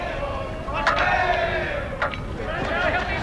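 A stadium crowd at a 1997 men's field hockey Champions Trophy final between Australia and Germany gives a brief rise of cheering and shouting, moderately loud and distant, under a commentator's voice.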